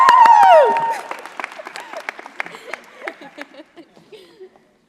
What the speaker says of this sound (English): can we have another round of applause for our amazing fellows?